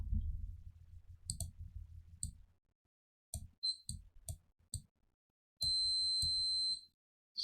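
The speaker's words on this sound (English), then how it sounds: "Sorry about that beeping in the background." Electronic beeping in the background during a game development stream: short sine-like tones and clicks recur irregularly, with a sustained steady tone near the end, mostly alone against near silence.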